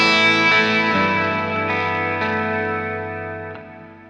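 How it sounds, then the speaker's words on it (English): Electric guitar played through a King of Tone overdrive pedal with stereo reverb added: sustained, slightly driven chords ringing out with a few new strums, decaying smoothly with a spacious reverb tail and no talking. "Add in my stereo reverb."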